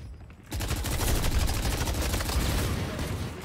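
Rapid gunfire from the video game Valorant starts abruptly after a brief quiet moment and continues as dense, loud bursts of automatic fire for about three seconds.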